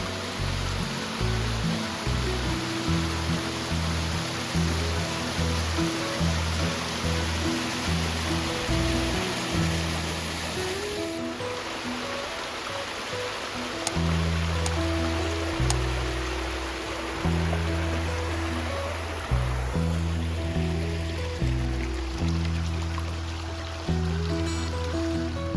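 Water at a Heber Springs waterfall rushes in a steady, broad hiss, with faint low background tones running beneath it.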